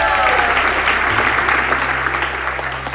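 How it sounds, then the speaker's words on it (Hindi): An audience claps together at a live storytelling show, dense steady applause filling the room close by and easing slightly toward the end. "चलो एक बार इस हरकत के लिए ताली बजा लो यार"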